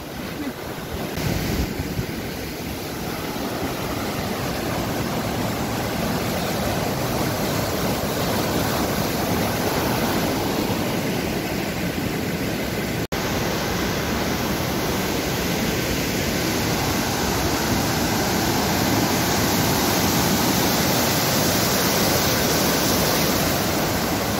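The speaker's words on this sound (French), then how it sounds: "Franchement ça rend super bien, c'est super beau les cascades et tout." Steady, roaring rush of falling water, loud and continuous throughout, with a broad hiss of spray and wind.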